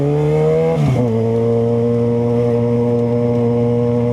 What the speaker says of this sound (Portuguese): o escapamento tá bem alto